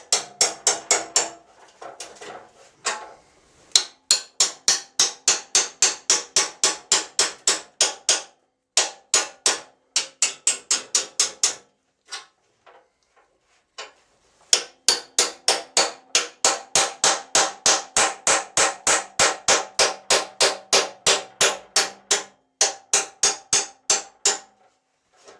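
A hammer strikes the welds on a steel snow plow blade that is being converted from straight to boxed, in long loud bursts of rapid, evenly spaced metallic blows broken by short pauses, with no talking.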